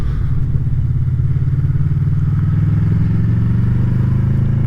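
A Honda VFR800 motorcycle engine runs steadily up close, a loud, continuous low rumble with an even throbbing pulse throughout, and no voices.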